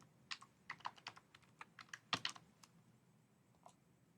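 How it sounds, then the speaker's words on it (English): Irregular bursts of quick, crisp keystrokes on a computer keyboard as a name and library card number are entered, fairly close and faint over a quiet room, thinning out toward the end. "we'll just type in the name and our library card number"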